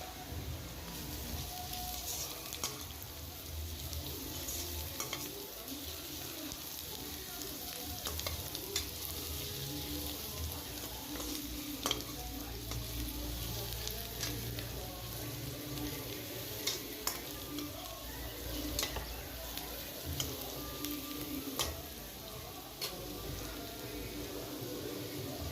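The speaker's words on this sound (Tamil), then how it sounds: "நச்சு வச்சுருக்க பூண்டை போட்டு நல்லா கிளறி விடுங்க" Crushed garlic is stirred into okra frying in oil in a pan. A continuous soft sizzle carries occasional scraping stir strokes, close and fairly quiet, with no clear talk.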